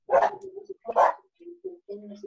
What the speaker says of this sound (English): So who's got the dog?